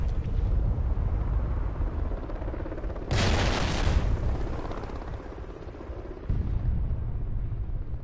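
A grenade blast in an online shooter game, a loud broad burst that swells up abruptly and rumbles for about three seconds over constant low in-game noise and engine-like drone.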